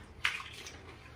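Flavoured water being poured for gupchup (pani puri), a brief splashing pour with a sharp watery burst followed by fainter trickling, quiet and close.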